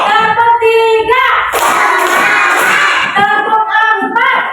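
Young first-grade pupils in a classroom clap along in a counting clap game, rhythmic hand claps mixed with children chanting together in a singsong voice.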